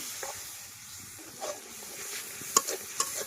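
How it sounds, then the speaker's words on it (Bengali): Spice paste of chilli, turmeric and coriander powders stirred and fried in a pan, a faint steady sizzle with a few clinking, scraping stirs toward the end, close and without talk. "এখন মশলাটাকে খুব ভালোভাবে কষিয়ে নিব।"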